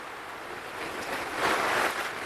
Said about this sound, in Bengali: মেলা জোরে বৃষ্টি আইলো